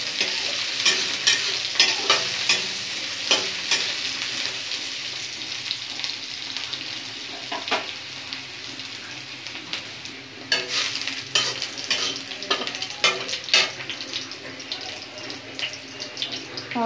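Onions fry in a pan with a constant close sizzle, broken by frequent clattering scrapes of a spoon stirring them. The sounds grow busier toward the end.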